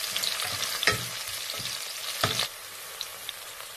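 Leaves sautéing for Tamil-style coconut rice, a steady close sizzle with a few sharp stirring scrapes in the pan, the frying hiss continuing quietly between them.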